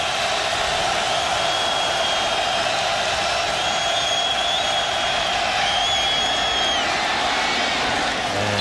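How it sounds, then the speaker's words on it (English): Stadium crowd noise at a college football game, a steady dense roar of many voices that swells slightly and holds throughout, with no individual voices standing out. "And the crowd here coming alive."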